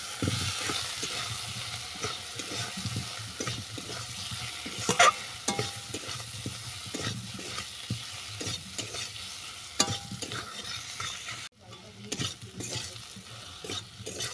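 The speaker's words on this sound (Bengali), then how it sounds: "এর মধ্যে দিয়ে দিচ্ছি ভেজে রাখা আলু আর কচু" Fried potato and taro pieces stirred into a sizzling spiced masala for a vegetarian taro dish: steady close frying hiss with repeated scraping stir strokes throughout, no voices.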